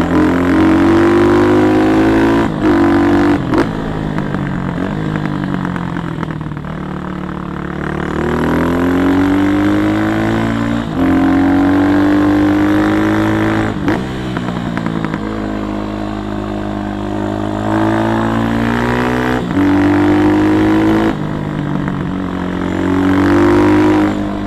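A Kawasaki D-Tracker 292cc motorcycle climbs a mountain pass, its single-cylinder engine loud and close as it revs up and drops back repeatedly, with sharp popping afterfire bursts breaking through during engine braking between pulls.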